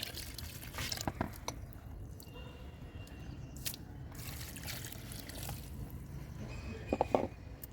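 Water trickles and drips onto a dried-out mint plant, faint and close, with small splashes and soft squishy sounds, louder near the end.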